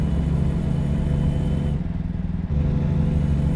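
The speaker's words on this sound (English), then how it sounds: "That is a really awkward sounding engine brake." Volvo truck engine brake in American Truck Simulator, a loud, steady low rumbling drone with a pulsing muffled tone that briefly dips and shifts before resuming, close and continuous.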